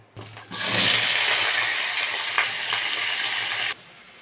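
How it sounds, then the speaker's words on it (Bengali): Chopped vegetables hit a hot pan for a Mahua Jagannath bhog, bursting into a loud, steady sizzle that holds for about three seconds before stopping abruptly. "কেটে রাখা সবজিগুলো ঢেলে দেবো।"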